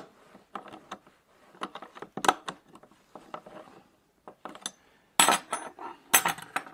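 Metal clicking and ratcheting as a brake line tool works the bolt on an old Brooks B66S leather bicycle saddle, irregular close clinks and scrapes in short bursts, louder toward the end.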